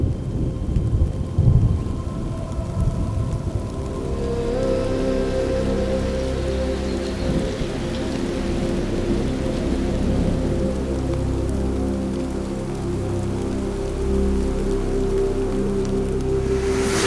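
Steady rain with rolling thunder during the rainy season at Mala Mala in the African bush, a continuous loud downpour wash with deep rumbles building and persisting throughout, no voices.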